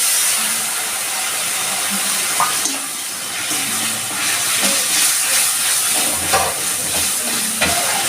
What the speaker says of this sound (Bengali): লঙ্কার গুঁড়ো অল্প একটু আমি আর একটু জল দিয়ে দিচ্ছি